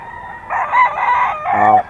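A sweater-breed gamecock rooster crows loudly and close by in two strained, harmonic bursts, the second ending abruptly.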